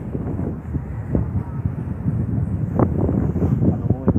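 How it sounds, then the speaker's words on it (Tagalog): Strong wind buffets the microphone in a steady, loud rumble with gusty surges throughout. "Malakas yung hangin."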